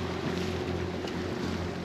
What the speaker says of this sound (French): On commence à avoir le vent qui prend le génois et encore c'est pas terrible.